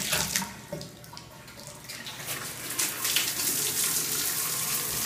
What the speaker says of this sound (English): Very light pressure from the faucet.